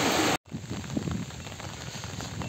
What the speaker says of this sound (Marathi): पाऊस तर खूप चालू आहे.